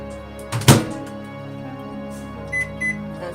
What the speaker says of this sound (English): So I'm just gonna microwave this a little bit